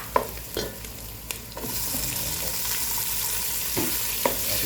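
Onion, garlic and then tomato sautéed in a pan for a sinigang dish, a few sharp spatula scrapes over sizzling that swells into a louder, steady frying hiss once the tomato goes in, close up with no speech.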